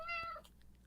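A house cat gives one short, bright meow close by, followed by a faint trailing murmur.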